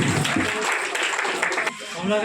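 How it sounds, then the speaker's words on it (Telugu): Applause from an audience at a club celebration event, a short burst of clapping mixed with crowd voices, fairly close and loud before fading. "కాబట్టి గట్టిగా చప్పట్లు కొట్టాలి"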